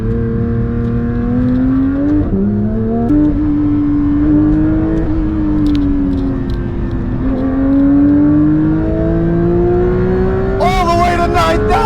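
A Porsche 992 GT3's naturally aspirated flat-six revs toward 9,000 RPM from inside the car, its rising wail climbing through several pulls with brief dips at gear changes, loud and continuous throughout.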